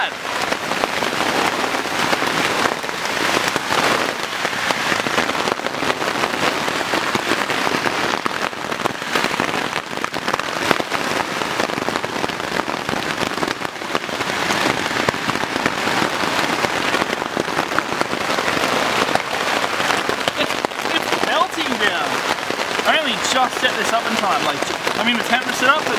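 Heavy rain pounds on a tent during a long-distance walk, a loud continuous drumming patter that fills the space for the whole stretch, with wind in the mix and occasional louder gusts of drops.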